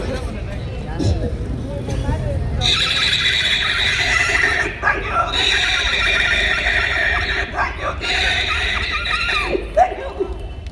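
A performer's voice imitates a horse, producing repeated whinnying neighs in bursts across the stretch, loud and close, with a little crowd murmur and laughter around it.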